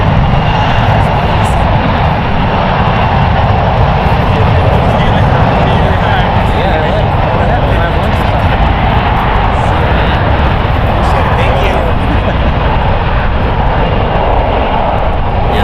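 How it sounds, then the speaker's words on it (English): A British Airways Airbus A380 at San Francisco International Airport produces a loud, sustained, broadband engine roar that fills the whole stretch without letting up. "So we're going to end off with the British A380."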